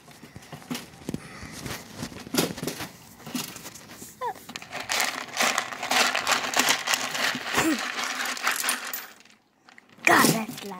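A dog eats loudly with wet chomping and clattering noises that continue for several seconds, while a person talks over it and a brief pause comes near the end.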